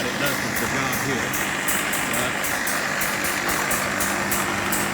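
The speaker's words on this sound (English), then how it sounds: "Just pumping the sludge now. This is through a locally sourced gear pump." An old, locally sourced gear pump moves sludge from an oil pond, giving a continuous loud mechanical drone with a steady rhythmic ticking pulse throughout.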